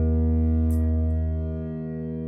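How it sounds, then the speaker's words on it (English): A t[w]lv harmonic oscillator in VCV Rack, run through a low-pass filter and Plateau reverb, holds a steady, rich chord of stacked harmonics. The drone sustains alone and slowly fades, with a faint airy swish early on. "to let you listen to the sound of this new harmonic oscillator"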